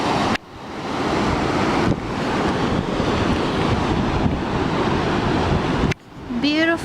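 Ocean surf at a beach with surfers out, heard as a broad steady roar of waves mixed with heavy wind buffeting the microphone, briefly cut off twice, with a faint voice at the end.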